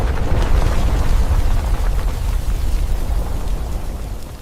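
A loud explosion rolls into a sustained roar of fire and collapsing buildings, a dense rumbling wall of sound in a Swahili audio drama that eases off slightly toward the end, with no voices.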